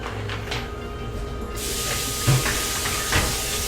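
Tap water runs steadily into a kitchen sink as vegetables get a quick rinse while holiday side dishes are prepared; a broad, even hiss starts partway through, with a couple of soft knocks.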